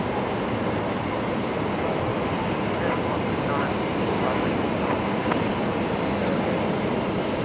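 A Singapore airliner taxis to line up at Brisbane Airport, heard as a steady, loud broadband engine roar that stays constant throughout without pause.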